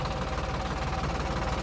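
A tractor stuck deep in mud runs its engine at a steady, rough, low throbbing rumble, close and continuous with no voices.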